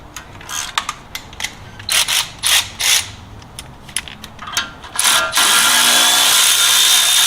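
A ratchet loosening a brake caliper bolt on a third-generation Toyota 4Runner during front wheel bearing work: a string of close, sharp clicking bursts in uneven runs, then a steady loud hiss at the end.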